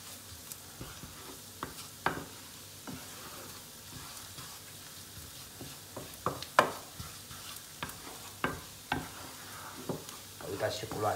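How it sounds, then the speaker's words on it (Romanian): Flour browning with fish in a frying pan, giving a soft steady sizzle broken by scattered sharp clicks and scrapes of stirring, with no voices. "Lăsăm făina să rumenească un pic."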